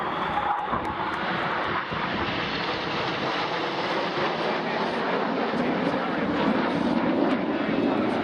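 Red Arrows display jets flying a manoeuvre at the RIAT air show at RAF Fairford, a continuous broad roar of jet engines heard from a distance throughout.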